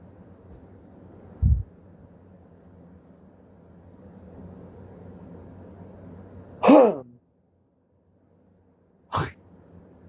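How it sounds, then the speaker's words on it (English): A few short, sharp throat-clearing bursts spaced several seconds apart, heard close up over a low background hum. "I'm clearing my throat."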